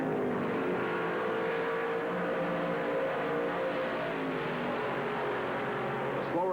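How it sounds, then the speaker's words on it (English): NASCAR stock cars roar around the track at the 1977 Southern 500 at Darlington, a steady, dense engine drone from the field with a narrator talking over it. "Slower cars move down on the track, giving the front runners all the racing room they need."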